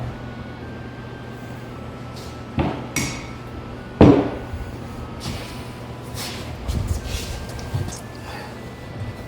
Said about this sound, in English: Somebody's tapping on something quite a bit now.